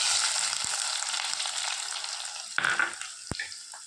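Onions and green chilies fry in hot oil with mustard seeds for neerulli saaru, a bright steady sizzle broken by a few clinks and scrapes of stirring.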